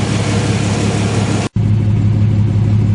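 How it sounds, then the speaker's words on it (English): Chevrolet Vortec 4.3L V6 idling through a Flowmaster Outlaw exhaust after a throttle body cleaning, a steady loud low rumble that cuts out abruptly for an instant midway, then resumes at an even idle. "I'm going to let it idle for a minute and then restart it"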